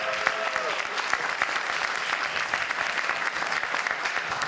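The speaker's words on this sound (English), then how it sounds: "Let's give them a big round of applause." Loud, sustained clapping from a large crowd at a pitch competition finals event, dense and steady throughout with no pauses.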